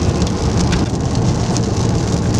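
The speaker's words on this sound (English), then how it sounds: "It's raining." Heavy rain falls steadily on nearby surfaces, a dense, loud patter with a deep rumble underneath, alone without any talk.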